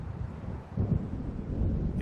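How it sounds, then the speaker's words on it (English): A low, rumbling roar of gusting wind with a deep thunder-like swell builds as a storm approaches a lake shore in Alan Wake Remastered, a steady dark background without voices. "It seems there's a storm coming."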